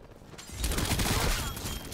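Sustained gunfire in Call of Duty Cold War, a fairly quiet, dense rattle of shots starting after a short lull and continuing steadily to the end.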